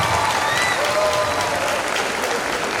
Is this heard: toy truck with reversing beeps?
no